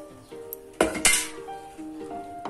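Pakoda curry being mixed in a metal pot, with a few sharp utensil clinks and scrapes against the pot and quiet kitchen background in between.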